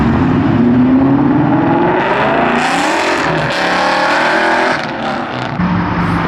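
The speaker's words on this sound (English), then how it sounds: "We got a 392 powered Challenger rolling out." A 392-powered Dodge Challenger muscle car pulls away at a Texas car show, its engine note rising steadily as it drives off, loud and continuous with crowd ambience behind it.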